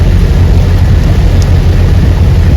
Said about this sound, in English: A little rainy today.